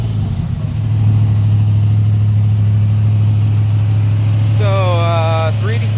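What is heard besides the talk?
383 stroker V8 engine revving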